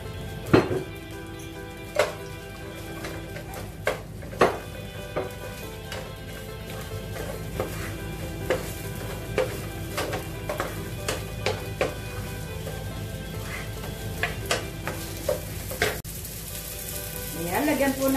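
Onions frying in a pan, a steady sizzle punctuated by repeated sharp clanks of a utensil striking the pan, roughly every second or two, with no talk.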